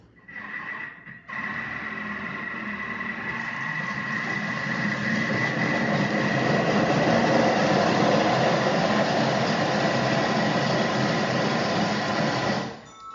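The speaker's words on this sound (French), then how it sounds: "je vais la mixer 5 secondes, vitesse 5" A food processor blends a tomato and pepper mixture for chakchouka at speed 5, a loud, steady motor whir with churning food that runs for about eleven seconds after a brief start, then cuts off.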